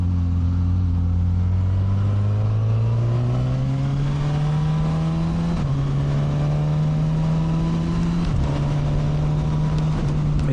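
Suzuki GSX S1000 motorcycle engine running steadily while riding, a smooth continuous drone that rises in pitch through the gears, loud and close with wind rush, no voices.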